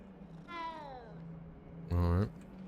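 A cat in the video game Hogwarts Legacy meows twice, a longer rising-and-falling call followed by a short, louder, sharper meow, over a low steady background hum.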